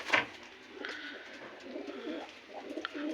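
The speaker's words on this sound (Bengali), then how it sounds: "অনেক কবুতর এখানে আছে, বাংলা আছে, সিরাজি আছে, সব ধরনের কবুতর আছে।" Pigeons of mixed breeds, including Bangla and Siraji birds, coo softly on a rooftop pigeon farm, with low repeated throaty calls and a couple of brief sharper notes, fairly close but quiet, with no talking.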